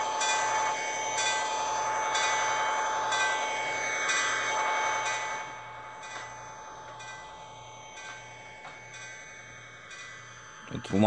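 Long train rolling by in the Trainz railway simulator, a loud, steady mechanical rumble with rhythmic low pulses that fades after about five seconds into a quieter hum, with speech faintly over it.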